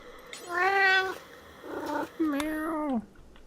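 A cat in the game RimWorld gives two drawn-out, wavering meows a moment apart, moderately loud and close over a quiet background.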